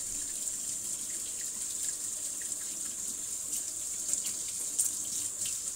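Water runs steadily from a kitchen tap during cooking, a continuous close hiss with small splashy fluctuations and no talking.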